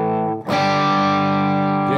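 A Cogg semi-hollowbody electric guitar played through distortion and effects rings out loud and sustained, with one picked attack re-striking the held note and a brief bend near the end.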